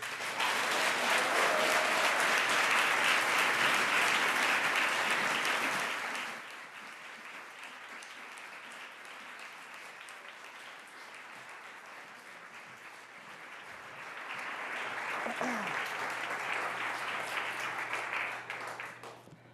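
An audience applauding as two speakers are welcomed onto a talk show stage: dense, steady clapping from a large crowd for several seconds, easing to a softer patter, then swelling again toward the end.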